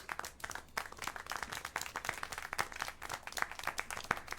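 Scattered applause from a small group in Syberia 4, sharp irregular claps spread across a few seconds, fairly quiet and heard alone without talk.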